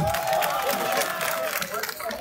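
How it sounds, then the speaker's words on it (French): A crowd at a street demonstration in Paris claps and cheers in a brief, dense burst, heard at mid-distance with murmuring voices blending into the applause. "Applaudissez!"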